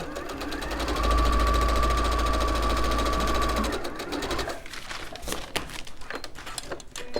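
A sewing machine joining rows of fabric runs in a steady, loud whirring burst for a few seconds, then stops, followed by lighter fabric handling and clicks nearby.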